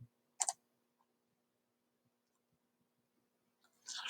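A mouse click on an OK button, one short, quiet double-tick near the start, followed by near silence and a brief burst of noise at the end.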